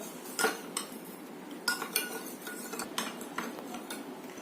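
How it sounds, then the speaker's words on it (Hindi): A spoon clinks and scrapes against a glass or bowl while sugar is stirred into a Rooh Afza lassi, giving a handful of light, close metallic taps spaced over a few seconds. "मैं चीनी को मिक्स कर रही हूँ।"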